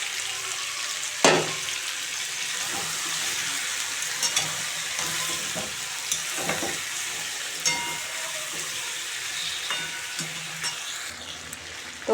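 Snakehead fish fries in a pan with spiced tomato masala, a steady close sizzle with occasional stirring scrapes and soft clatter, no talking.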